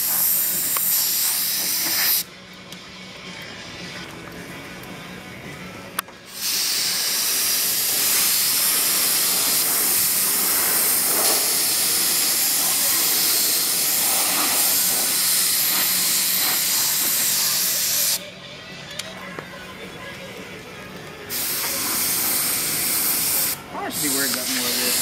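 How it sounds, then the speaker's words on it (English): A spray gun sprays white epoxy primer onto a 1969 Camaro in a backyard garage, loud sustained hissing bursts of several seconds each with brief pauses between passes, close and alone. "Spraying white epoxy primer."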